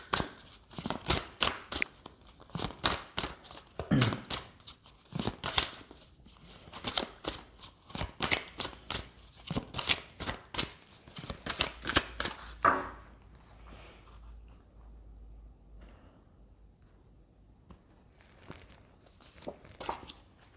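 Oracle cards are shuffled by hand in quick, close, crisp riffles that repeat steadily for about twelve seconds before the handling turns soft and sparse.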